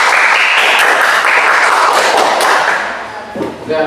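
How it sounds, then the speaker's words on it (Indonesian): Loud classroom applause from pupils, a burst of dense clapping that fades toward the end as a voice begins to speak. "Tepuk tangan dulu untuk Brian."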